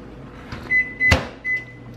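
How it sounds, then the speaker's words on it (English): A kitchen microwave oven gives several short electronic beeps alongside a sharp door clunk, fairly close and clear over a quiet room with no talking. "I do need to use the microwave for just a quick second"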